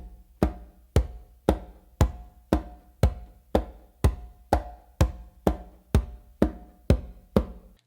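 Conga played with alternating palm-finger strokes, deep bass tones mixed with sharper fingertip taps, in a steady even rhythm of about fifteen close, crisp hits with short ringing decays and no talking.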